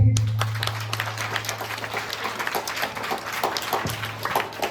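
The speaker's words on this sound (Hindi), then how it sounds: "एक तो ताली बजा दो ना बच्चे के लिए।" Children at a summer camp clap for a classmate, a scattered patter of hand claps that rises and stays busy, with a low hum underneath and voices mixed in.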